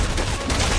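Sniper gunfire from a church rooftop near City Hall in Resident Evil 6, heard as a dense, steady rattle of shots that fills the whole moment with no pause.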